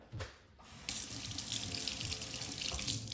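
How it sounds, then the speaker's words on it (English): Tap water runs steadily over a freshly peeled egg at a kitchen sink, a continuous bright splashing that starts after a brief pause and holds close and fairly loud, with no talking. "Just rinse it off"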